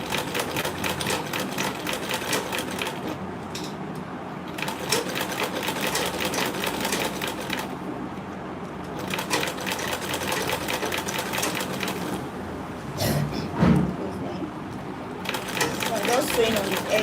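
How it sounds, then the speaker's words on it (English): A sewing machine back stitching a leather tote bag runs in fast, steady mechanical bursts with brief pauses between runs, heard up close while a person talks over it. "So I'll back stitch first."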